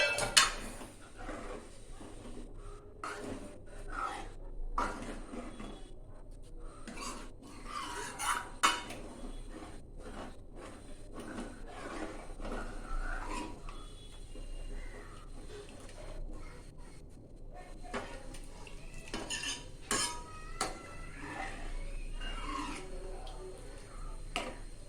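A spoon stirs egg curry in a pan after coconut milk has been poured in, giving light metallic scrapes and clinks at an irregular pace over a low steady kitchen hum, close up and fairly soft.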